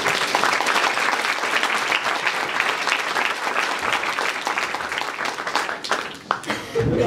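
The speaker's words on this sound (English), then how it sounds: "But please, give a warm applause to Grace Dyer." A seated audience at an academic gathering breaks into sustained warm applause, dense clapping that holds steady for several seconds before thinning out at the end.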